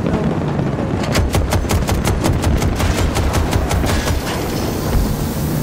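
Rapid automatic gunfire in the Battlefield 2042 shooter, a steady stream of loud sharp shots firing continuously and evenly under dense background battle noise, with no talk.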